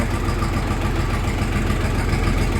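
Kentavr 244SX mini tractor engine idling steadily at about 700 rpm, a continuous close rumbling drone with no speech.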